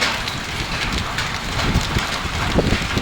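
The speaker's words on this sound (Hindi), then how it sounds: "बारिश हो रही है, बारिश के साथ ओले गिर रहे हैं।" Rain with hail pouring down in a storm at Krishnanagar, Lohawat, in Phalodi district, a dense, steady hiss and patter of drops and pellets striking surfaces, continuous and fairly loud, with some wind noise and no talk.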